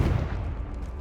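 A Confringo fire spell bursts in Hogwarts Legacy, a short heavy boom with a low rumbling body that fades quickly, loud and alone.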